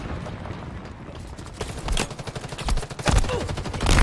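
Video game gunfire crackles in rapid bursts and scattered single shots, loud and close, layered into a dense fusillade that builds over a few seconds.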